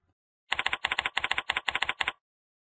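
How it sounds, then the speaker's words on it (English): Rapid bursts of keystrokes on a computer keyboard entering a search term, about nine quick clustered clicks in a steady run lasting under two seconds, close and crisp with no talking. "Let's type that in now."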